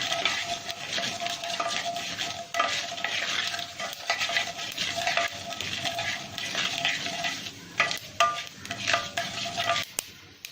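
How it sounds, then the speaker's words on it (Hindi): Urad dal roasting and frying in hot oil with mustard seeds for a South Indian potato curry, stirred steadily; a continuous close sizzle with scraping spoon strokes against the pan and occasional sharp clinks, no talking. "तो अब हम इसमें डालेंगे थोड़ा सा उड़द दाल"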